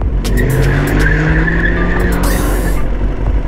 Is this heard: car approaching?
yes